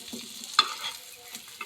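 Dried fish (shutki) frying in a pan as it is stirred, with soft close sizzling and a sharp scrape of the utensil partway through.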